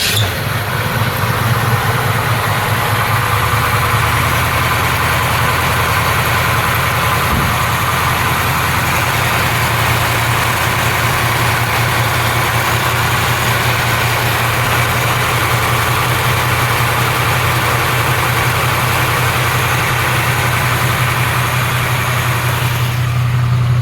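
A 1968 Camaro convertible idles steadily after being started, a continuous low engine rumble with an even hum that stays loud and close for the whole stretch, with no talking.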